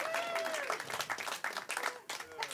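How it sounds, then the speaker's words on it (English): Crowd applause at a live artist showcase with comedy, dense clapping and cheering lasting the whole moment, with voices calling out over it. "y'all give her a round of applause"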